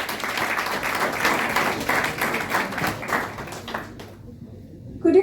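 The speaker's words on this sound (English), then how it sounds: "Can I have a big round of applause here?" A book launch audience gives a sustained round of applause, dense and fairly loud, which thins out and fades toward the end before a brief louder sound at the close.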